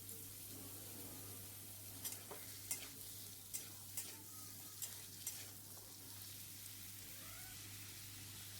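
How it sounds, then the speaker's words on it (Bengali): Cut pointed gourd and potatoes frying together in hot oil, giving a soft, steady sizzle with a few sharp scrape-and-stir clicks from a spatula spread through the middle, faint and fairly close, with no talking. "ওই তেলেই আমি কেটে রাখা পটল আর আলুগুলো একসাথে ভেজে নেব।"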